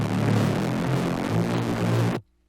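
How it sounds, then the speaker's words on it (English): A harsh, heavily distorted, unfiltered synth tone buzzes loudly for about two seconds, then stops abruptly into silence. "Really distorted"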